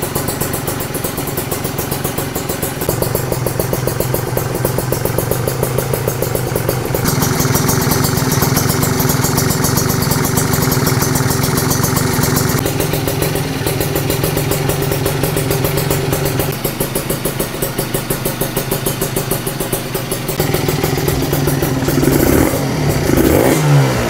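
Two-stroke Kawasaki Ninja engine warming up, a rattly, buzzing idle with steady mechanical clatter, shifting between settled idle and higher-pitched revs, close and loud throughout.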